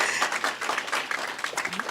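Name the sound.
audience applause for service providers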